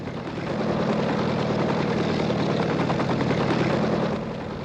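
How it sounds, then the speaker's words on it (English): A helicopter drones loudly and steadily overhead as it comes in to a city heliport, its rotor chop and engine hum filling the air throughout without anyone speaking. "Helicopter coming into Waterloo Air Terminal."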